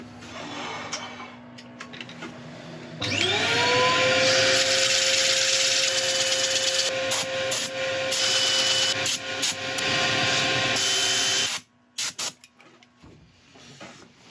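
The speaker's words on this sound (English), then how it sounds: "let's sand this up" Power sanding of a soft wood bowl on the lathe, a steady loud whirring grind with rising tone that starts a few seconds in, runs continuously for about nine seconds, then cuts off abruptly.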